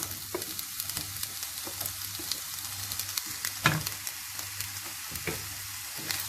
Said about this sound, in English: I'm going to nicely saute fry this and make sure the onions and carrot have nicely cooked and fried